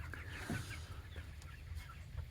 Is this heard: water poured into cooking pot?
no